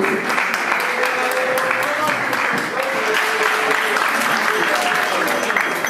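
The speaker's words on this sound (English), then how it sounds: "Let's all stand up and give the madrichim a round of applause." An audience claps steadily for the madrichim at a yeshiva gathering, a dense, sustained round of applause lasting throughout, with a voice faintly audible beneath it.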